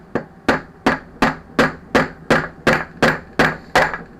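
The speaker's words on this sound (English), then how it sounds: "I need to tap that out of the centre of there" Screwdriver struck repeatedly with a hammer to tap a seized part out of the centre of a dial, ten sharp metallic knocks at a steady rhythm about every 0.4 seconds, close and clear with no talking.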